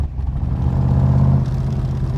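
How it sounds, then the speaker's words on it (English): A Backdraft RT4 Cobra with a Roush 427 V8 engine rumbles deeply, with the engine note rising and then dropping in a quick downshift blip, close and fairly loud. "y'all hear that downshift?"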